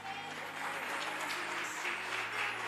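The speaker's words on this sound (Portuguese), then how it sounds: "aplauda o Senhor Jesus" Church congregation applauding, a brief, steady, dense roar of clapping that stays even throughout.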